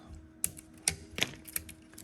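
Wire ties being snipped off a 3D printer during a teardown: four sharp, separate clicks of a cutter spread over about two seconds, close by, with no talking.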